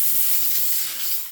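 A Beldray Titanium BEL07011TTR handheld steam cleaner hisses out a steady, close jet of steam that tails off at the end, with no talking.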